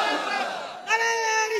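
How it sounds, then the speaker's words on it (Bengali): Many voices of a gathered crowd at a religious sermon shout takbir in unison, a loud sustained chant that dips briefly and then swells again in a second strong shouted wave. "সামনে থেকে একদম দাঁড়ায় তাকবীর দেন দেখি।"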